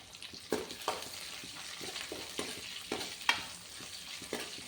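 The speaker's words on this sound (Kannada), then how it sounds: "ಇದನ್ನೆಲ್ಲ ಹಾಕಿ ಮತ್ತೊಂದು ಸಲ ಫ್ರೈ ಮಾಡ್ಕೊಳ್ಳಿ" Curry ingredients for a suvarna gedde (elephant foot yam) and chickpea curry fry in a pan, a low steady sizzle broken by repeated scraping stirs and utensil clinks at an irregular pace, close and fairly quiet.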